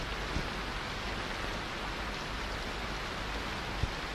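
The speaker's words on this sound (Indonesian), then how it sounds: "Kalian dengar bunyi rintik hujan itu?" Steady, hissing rainfall fills the space evenly, a constant wash of drizzle with a couple of faint drops or taps.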